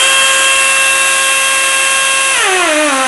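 A pneumatic air motor torque tool runs at full flow, a loud steady high whine that holds constant, then drops sharply in pitch as the motor slows near the end.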